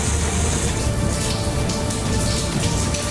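Simulated rain pours onto parking lot pavement in a steady, dense hiss, loud and continuous throughout with no voices.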